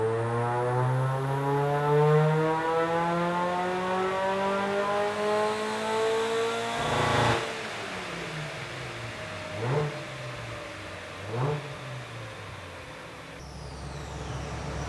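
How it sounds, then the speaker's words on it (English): Supercharged car pulling hard on a dyno, its engine note climbing steadily through a long loud run before dropping away, followed by a couple of short blips, with belt slip. "Time for our first supercharged dyno run."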